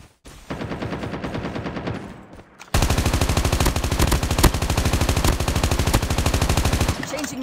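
Rapid automatic gunfire in a battle royale video game, a dense sustained burst of loud shots after a quieter stretch of firing, continuing for several seconds before cutting off.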